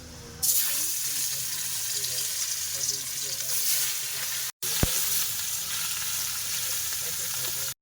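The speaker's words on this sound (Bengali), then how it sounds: "মাছের ডিম ভেজে নিয়েছি খুব একটা বেশি কিন্তু ভাজিনি হালকা হালকা ভেজে নিয়েছি" Fish roe frying lightly in a kadai, a steady close sizzle that runs almost without a break, with a short stir partway through and no voices over it.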